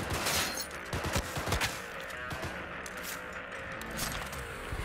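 Shotgun fire in a Cyberpunk 2077 firefight, a quick cluster of loud blasts early on followed by a lone shot and quieter game ambience.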